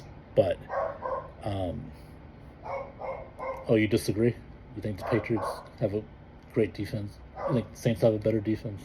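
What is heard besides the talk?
dog next door barking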